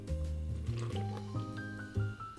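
Passion fruit puree pours into a bowl of dry bread-dough ingredients, a wet squishing, glugging flow with a rising filling tone, close and steady throughout.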